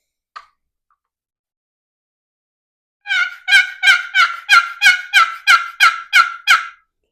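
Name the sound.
turkey box call imitating hen yelps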